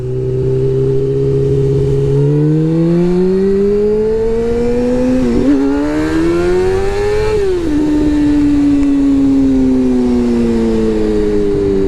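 A motorcycle engine drones loudly and close up while riding, its pitch rising and falling through several gear changes and throttle swells, with steady wind rush and no speech.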